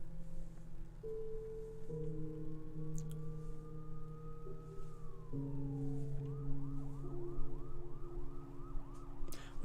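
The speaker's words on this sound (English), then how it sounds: "You can hear police sirens." Police sirens in the video game Lorekeeper: low sustained electronic tones give way to a repeating wailing siren that rises and falls in quick cycles, loud and clear over the drone.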